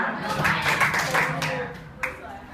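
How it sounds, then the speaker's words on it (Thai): A Grade 9 art class claps together on cue in a classroom, giving a few sharp group claps mixed with scattered hand noise and a voice heard briefly underneath. "ปรบมือ3 ครั้ง"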